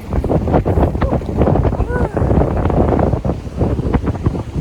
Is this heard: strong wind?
yes